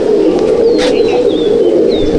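Madras Andhra pigeons in a loft coo loudly and close by in a steady, throbbing drone, with a few thin whistling chirps rising briefly above it.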